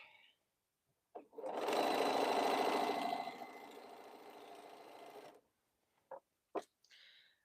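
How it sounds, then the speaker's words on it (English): A sewing machine runs a steady fast stitching burst of about four seconds while chain piecing quilt border units, then slows and stops, followed by a few sharp clicks and handling sounds. "I got one more that I'm sewing. I'm just chain piecing onto some of the border units."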